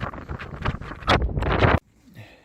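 Gusty wind on a hot, 38-degree day buffets the microphone in loud, uneven bursts that cut off abruptly, leaving faint quiet rustling afterward.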